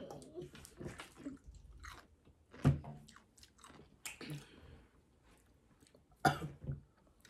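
Someone chews a jalapeno close to the microphone, with wet crunching bites in uneven bursts mixed with coughs, gasps and short exclamations during a sweet versus heat food challenge.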